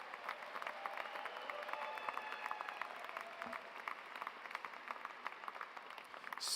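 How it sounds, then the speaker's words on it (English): An audience at an online school graduation ceremony applauds steadily, a sustained wash of clapping heard at a distance and fairly faint. "So how about a round of applause for all the love in the seats today?"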